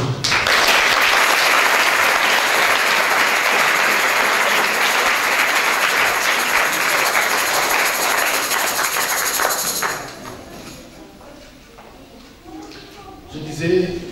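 A church congregation at a night of praise and worship bursts into loud, sustained applause with cheering voices, which cuts off and drops to quieter room sound and scattered voices for the last few seconds.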